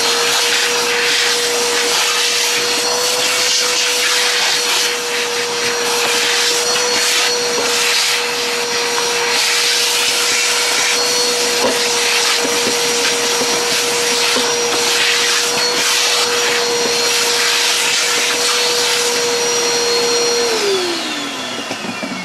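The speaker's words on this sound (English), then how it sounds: "and I'll just vacuum it out." A shop vacuum runs steadily and loud, sucking debris out of the scuffed chamber of a honeybee hive top feeder; the motor drones evenly throughout, then winds down at the very end, with nobody talking.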